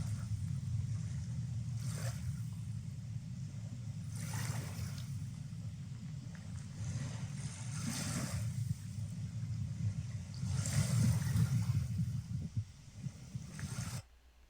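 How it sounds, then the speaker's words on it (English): Water lapping at the shore of Lake Michigan, a steady low wash with soft recurring swells, heard alone and fairly close with a low rumbling undertone throughout. "I hope you enjoyed just listening to the water there a little bit"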